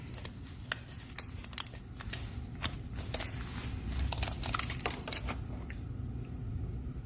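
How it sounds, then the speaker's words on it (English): A tape measure being pulled open by hand, heard up close as a quick series of sharp clicks and ratcheting ticks over a steady low room hum. "I'm trying to hold this and open up a tape measure at the same time."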